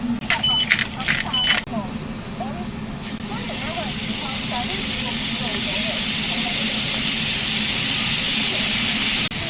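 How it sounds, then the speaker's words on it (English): Hokkaido scallops searing in a hot pan at an RV campground, a steady hissing sizzle that swells and holds loud after a few seconds, with a voice talking over the start. "One of the hardest things is to get a really nice sear on the scallops."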